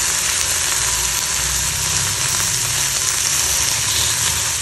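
Chopped tomatoes hit a hot pan of frying vegetables for a chow chow chutney, giving off a loud, even, continuous sizzle up close, with a faint stirring texture and no talking.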